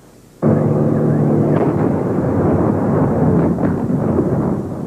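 Gunfire during the 1993 storming of the Russian parliament building in Moscow, a sudden loud blast followed by sustained rumbling, crackling reports and distant booms in a continuous roar.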